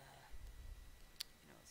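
A single sharp snip of scissors cutting open a Pokémon TCG Evolutions three-card booster pack, close and brief against a quiet room.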